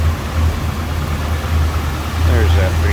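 A 1967 Ford Galaxie 500 XL's 390 V8 with a four-barrel carburetor idles with a steady low rumble from the open engine bay, and a voice talks briefly over it near the end.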